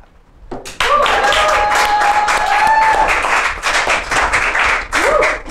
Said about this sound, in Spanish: un aplauso muy grande, por favor, para Miguel Mendoza de Nómada Lab, que nos va a explicar qué es Nómada Lab.